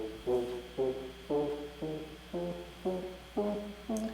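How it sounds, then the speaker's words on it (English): An EVI-ner wind controller synth patch named Ants plays a steady run of eight short, evenly spaced buzzy tones, soft and set back in the mix. "There's a second wind controller instrument here, and this one is called the EVI-ner"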